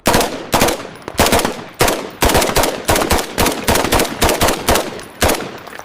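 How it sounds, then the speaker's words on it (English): AI-generated gunfire from Veo 3: a rapid, loud series of sharp gunshot bursts, some coming in quick machine-gun clusters, fills about six seconds with no talking. "Listen to those gunshots pop."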